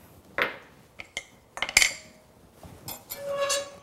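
Vegan margarine, cocoa powder and sugar tipped into a pot, heard as a few close clinks and clatters of utensil against metal cookware with scraping, no talking.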